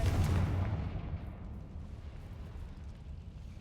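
Confringo fire spell exploding in the fantasy game Hogwarts Legacy, a single loud deep boom at the start that rumbles and fades slowly into a long decaying tail.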